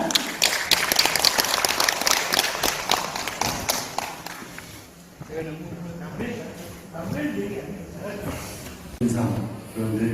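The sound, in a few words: audience applause welcoming a lecturer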